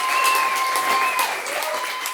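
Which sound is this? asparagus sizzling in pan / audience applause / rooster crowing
audience applause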